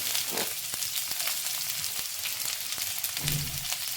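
Chopped onion fries in hot oil in a pan, giving a steady, close hiss with a few faint clicks as it is stirred.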